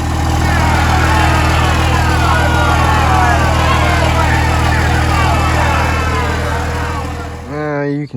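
A Cummins diesel truck engine runs close and loud with a steady, rough rumble, then winds down near the end.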